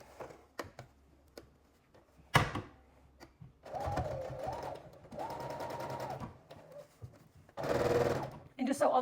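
Domestic sewing machine stitching satin fabric onto a t-shirt, heard in several short whirring bursts separated by pauses and clicks, close and fairly quiet.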